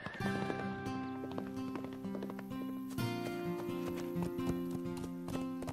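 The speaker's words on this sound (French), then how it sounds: "apprivoiser le cheval sauvage qu'ils ont ramené hier" Hooves of a wild horse clip-clop in a steady, uneven rhythm over layered background music in the cartoon Horseland, with an occasional horse snort; fairly close and moderately loud throughout.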